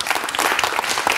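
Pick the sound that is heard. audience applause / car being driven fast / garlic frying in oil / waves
audience applause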